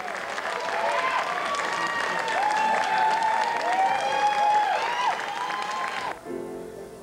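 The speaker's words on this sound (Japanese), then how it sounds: "アーティストたちの大歓声がゲストルームにも響き渡ります。" Recording artists cheer and applaud loudly in a studio after finishing a chorus recording, a dense sustained roar of clapping, whoops and shouts for about six seconds, then cutting off abruptly.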